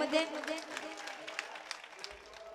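Applause from an audience at a mushaira poetry gathering in Malegaon, India, a dense wash of clapping with a voice rising over it near the start, steady and fairly loud throughout.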